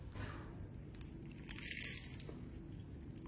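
Crispy fried tofu stuffed with vermicelli and mushroom is bitten into, giving a quiet, close crunch against a soft background with no talking.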